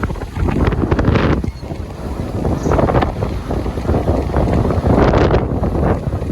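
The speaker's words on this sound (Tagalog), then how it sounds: "grabe, bagyo, lakas ng hangin." Loud, continuous typhoon wind with rain and fog batters the microphone with rough, rumbling gusts throughout, swelling toward the end.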